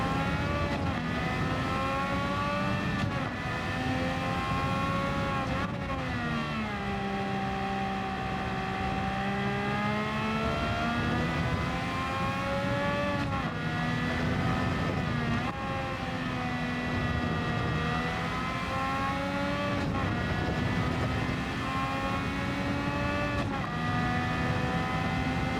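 Race car engine in Gran Turismo 7 revs hard and steadily through a licence test run, pitch climbing and dropping with gear changes, loud and continuous throughout with no talking.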